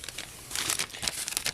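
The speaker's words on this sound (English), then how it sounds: "put in a zipper bag here. Like I mentioned, these are freezer bags, so they're nice and heavy." A heavy plastic zipper freezer bag crinkles and rustles in quick, close bursts while small engine parts from a teardown are put inside.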